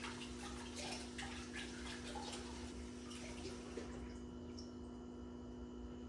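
Tap water runs steadily to rinse vermiculite off the roots of a plant from an indoor hydroponic grow setup, a continuous close splashing wash with a faint electrical hum underneath and no talking.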